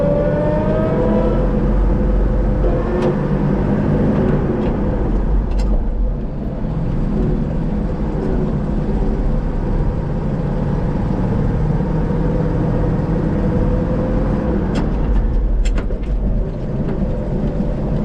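An old engine idles and revs steadily for a long stretch, loud and close, with a rough continuous rumble and no talk over it.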